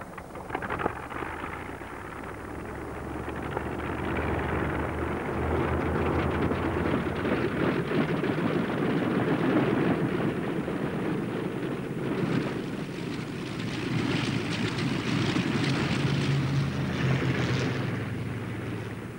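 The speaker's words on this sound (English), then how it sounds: "on signal from the ground, started our engines simultaneously" Aircraft engines run with a loud, sustained roar and wind rush, building in intensity over the clip without any voices.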